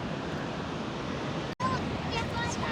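Intense ocean waves break on the beach at Bodega Dunes, a continuous roaring wash of surf with wind. The sound cuts out for an instant partway through.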